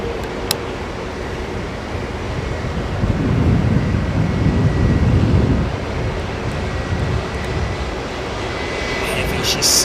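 A large airliner taxiing at an airport after leaving T4 gives a steady jet-engine rumble with wind buffeting, swelling a little in the middle as it rolls nearby.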